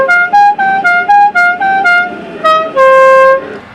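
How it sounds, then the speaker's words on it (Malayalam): A Stebel six-pipe car horn sounds close and loud in a quick run of about eight short musical toots, then holds one long sustained blast before cutting off. No one speaks. "ഇതിനകത്ത് നമ്മൾ സ്റ്റെബിളിൻ്റെ 6 പൈപ്പ് ഹോണാണ് വെച്ചിരിക്കുന്നത്. നമുക്കൊന്ന് അടിച്ചു നോക്കാം വർക്കാവുന്നുണ്ടോ അല്ലേ എന്ന്."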